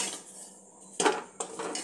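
Cooked semolina is scraped out of a metal wok onto a plate: a soft, quiet scraping, then two louder, close clattering scrapes of utensil on metal.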